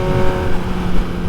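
Motorcycle engine with aftermarket exhaust pipes revving steadily, a loud, continuous low rumble with a sustained drone and no pauses, alone without talk.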